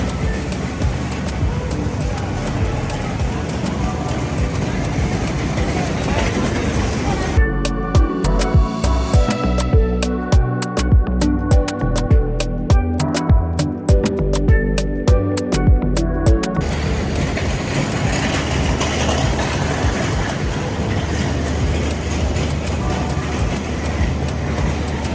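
The Suborna Express train running from Chittagong to Dhaka gives a loud, continuous rumble and rattle from inside the train. In the middle stretch, a rhythmic, tonal passage partly covers it.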